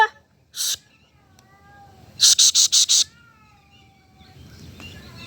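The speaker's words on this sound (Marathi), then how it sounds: "बोका आहे का मांजर आहे आपली काय म्हणते, तिचं आरडते" An outdoor cat cries on a smoggy early morning: a single meow, then a rapid run of five sharp meows, while a soft voice speaks in between.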